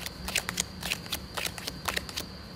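A deck of playing cards is handled and cut, giving a quick series of soft papery riffles and snaps, close and faint, with no talking.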